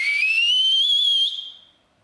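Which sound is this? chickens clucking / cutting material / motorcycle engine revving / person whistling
person whistling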